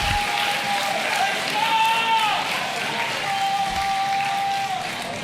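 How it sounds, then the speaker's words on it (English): A large boxing crowd at a fight night applauds and cheers loudly throughout, with an announcer talking over the noise. "Listen to this crowd."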